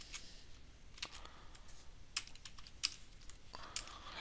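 Scattered clicks of a computer keyboard being typed on, faint and close, in short irregular bursts with gaps, no voices.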